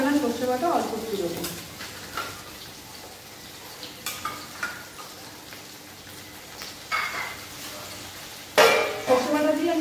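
Shrimp-stuffed pointed gourd dorma cooking in a pan as mustard paste goes in: soft sizzling frying with intermittent scraping stir strokes and clattery bursts, under a woman's speech at moments.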